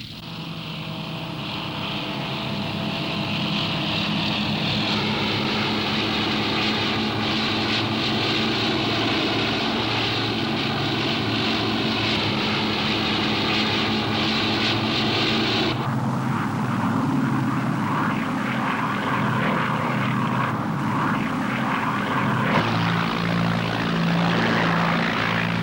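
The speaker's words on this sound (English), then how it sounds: "Here a patrolling flight of swordfish can be seen taken off from Ark Royal" Fairey Swordfish propeller biplanes on patrol after taking off from the carrier Ark Royal over a naval task force, their engines a steady, loud droning roar that holds throughout with no voices.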